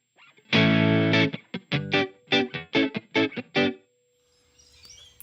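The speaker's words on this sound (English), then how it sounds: "That's a lovely big reverb" An electric guitar runs through an HX Stomp processor set to a big reverb: a held, distorted chord is followed by a run of short, punchy strums, then a brief, faint fading tail.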